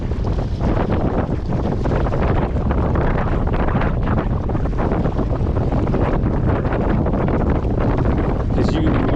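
Strong wind buffets an outdoor scene near water while fishing from a kayak, a continuous loud roar of gusts battering the microphone with no voices.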